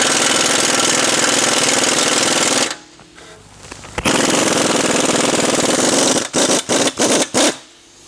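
A power tool hammers loudly on the large bolt of a shock absorber on an Audi A4 2.0 TFSI, a sustained rattling burst, a short pause, another long run, then several quick stuttering bursts.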